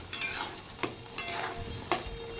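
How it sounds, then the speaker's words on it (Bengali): Spices with salt, turmeric and dry chili powder fry in a pan for a boal fish curry, giving a soft, steady sizzle broken by a few sharp scrapes and taps of a stirring spoon. "তাহলে মশলা ফ্রাই হয়ে গেছে।"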